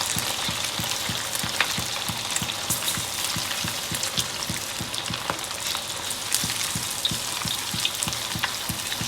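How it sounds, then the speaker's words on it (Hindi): Marinated boneless chicken deep frying in hot oil, a steady close crackling sizzle with dense bubbling pops that continues evenly throughout, with no voices. "डीप फ्राई होगा ये।"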